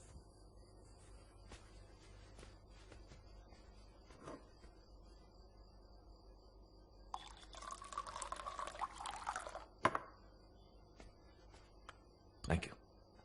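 Water poured into a container, a short, bright splashing pour that rises out of a quiet room with faint background hum and a few small clicks and knocks around it.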